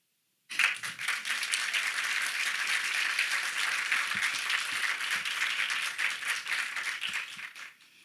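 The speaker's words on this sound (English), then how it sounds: "you just got a round of applause" Audience at a conference conversation with a young climate activist breaks into a round of applause, a dense, steady wash of many hands clapping that starts abruptly and carries on for several seconds before fading.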